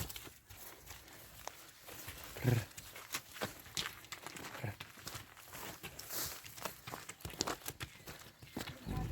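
A horse's hooves clip-clopping at a slow walk on hard ground, faint and somewhat distant, with rustling outdoor noise and no clear talk.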